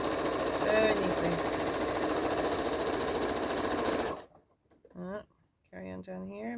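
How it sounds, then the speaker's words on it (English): A sewing machine stitching a back stitch seam on a small tote bag runs in a steady, close, continuous whir for about four seconds, then stops, and a person speaks. "we're going to do a back stitch"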